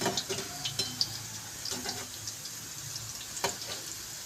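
Dahi phulki balls frying in hot oil, being turned to the other side; a soft, steady sizzle with light clicks and scrapes of the utensil, faint and close.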